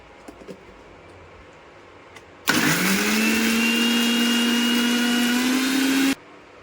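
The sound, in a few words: mixer grinder grinding mint, green chilies, ginger and garlic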